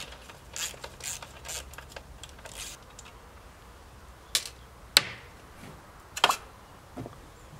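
Bolts being undone from the subframe of a Yamaha YZ250 dirt bike during a teardown, giving a series of short ratcheting and metallic clicks, a few sharp isolated ticks near the end, close and fairly quiet with no talk.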